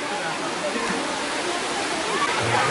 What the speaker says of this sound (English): The fourth pool, Erawan Waterfalls.